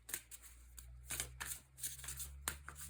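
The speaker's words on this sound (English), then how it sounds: "Pull one more card from the Sign of the Times Oracle." Oracle cards riffle and slap together in quick shuffling bursts, close and fairly loud over a steady low hum, with sharp snaps as cards are pulled.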